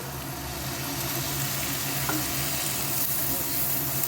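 Mixed vegetables for chowmein frying in a pan as a splash of vinegar is added, giving a dense, continuous sizzle that stays even and close throughout.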